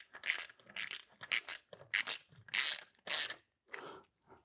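A hand ratchet tightens bolts on a truck's AC compressor bracket, giving several quick bursts of close, crisp clicking with short pauses between strokes and no talking.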